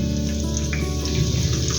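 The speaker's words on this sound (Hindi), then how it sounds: "सब्ज़ मिर्चों को हल्का सा भून लेंगे।" Chopped green chillies fry lightly in ghee over a low flame for a Kashmiri hareesa tempering, giving a soft, steady crackle and sizzle close by, with no voices.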